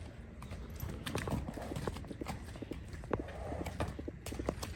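A breed mare and a handsome young foal, a four-year-old among them, walk with steady clip-clopping hooves, repeated sharp knocks falling in an uneven gait against a constant outdoor background.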